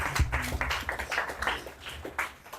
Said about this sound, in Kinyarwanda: Tubakomera amashyi menshi cyane nyabuneka.